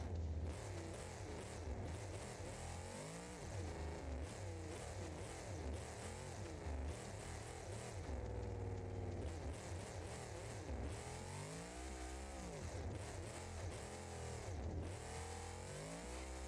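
In BeamNG.Drive a car engine revs and accelerates, its pitch sweeping upward repeatedly through the gears as it climbs toward high RPM, loud and continuous, with occasional tire noise.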